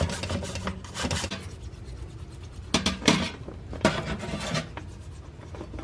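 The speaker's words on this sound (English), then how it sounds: "I went and got my little old cleaning toothbrush from underneath the cabinet here, because I feel like I'm going to need this to get down in some of these little crevices" A small cleaning toothbrush scrubbing into kitchen crevices, with close, raspy bristle scratching in uneven bursts and short strokes over a quiet room background, with no talking.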